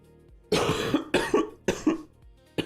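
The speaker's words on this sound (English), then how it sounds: "I'm sorry, guys, for coughing." Four harsh, close coughs in quick succession from a man during a live day trading stream, each a loud burst followed by a short gap.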